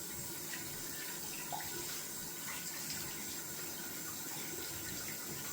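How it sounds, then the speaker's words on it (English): Running tap water rinses lather out of a dense shaving brush knot in a sink, a steady broadband rush of water with no talk. "Just washing out the brush down there."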